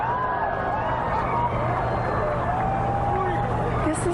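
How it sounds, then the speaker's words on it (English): A crowd gathered outdoors reacts during a total solar eclipse, a steady broad murmur of many voices with scattered whistles and calls rising over a constant low hum, with nearby speech throughout. "And the crowd is reacting"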